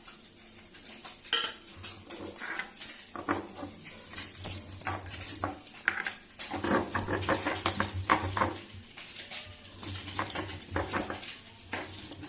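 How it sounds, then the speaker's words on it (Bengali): Onion being ground into paste on a stone, a continuous close rhythm of rubbing and scraping strokes at moderate loudness, steady throughout with no talk. "এবার বেটে নেব একটা পেঁয়াজ"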